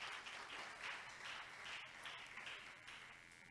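A church seminar audience applauds steadily in praise of God, a dense, even wash of clapping that holds at a moderate distance for several seconds with no talk over it.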